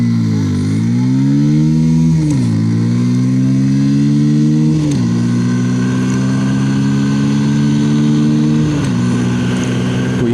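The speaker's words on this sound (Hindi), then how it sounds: "तो चलिए एक्सेलरेशन टेस्ट स्टार्ट करते हैं।" A TVS Raider 125 or Bajaj Pulsar 125 motorcycle accelerating hard through the gears in a 0 to 60 test, engine note rising, dipping at each of several gear shifts, then climbing again, loud and close.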